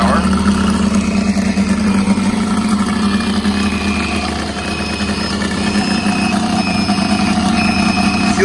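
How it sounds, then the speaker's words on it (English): An O.S. FR5-300 radial model engine runs at idle on glow power, a steady, loud, continuous drone with a low throbbing pulse and high whine throughout, close to the microphone. "Now we're at idle glow power."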